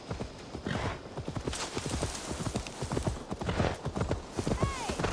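Horse hooves clip-clop in the Assassin's Creed Valhalla video game on Xbox Series X, a steady, brisk run of close, distinct hoofbeats that continues throughout.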